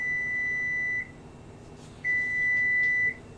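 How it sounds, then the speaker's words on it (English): A kitchen cake timer sounds two long, clean electronic beeps, each about a second, separated by a brief pause over quiet background hiss. "That's our timer for our cake."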